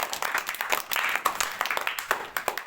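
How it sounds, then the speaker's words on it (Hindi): Students clap in a classroom at a tuition and computer centre, a dense run of quick overlapping claps, fairly close and steady throughout. "तालियां बजाओ नंदनी के लिए।"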